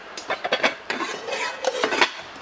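Sunhouse SH6634 anodized aluminium alloy cooking pots, a gold three-piece set in sizes 16, 20 and 24, clank and clink as they are handled, with several close metallic knocks and a scraping rattle in quick succession.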